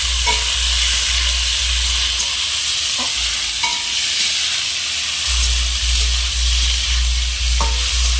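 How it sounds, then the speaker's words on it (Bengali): Medium-sized prawns coated in turmeric and salt fry in hot mustard oil in a kadai, a loud, continuous sizzle with occasional stirring scrapes and no talking. "এবার লবণ হলুদ মাখানো চিংড়ি মাছগুলো আমি ভেজে নেব"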